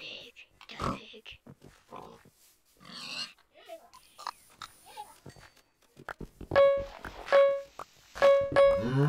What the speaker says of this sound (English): It's a pig. It's a pig.